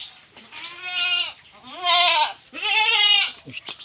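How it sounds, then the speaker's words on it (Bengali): Goats on a farm during steady rain, young kids among the larger adults, give three close, loud bleats in a row, each long and wavering, with short pauses between them. "বাচ্চা ছাগল, অনেক বড় ছাগল।"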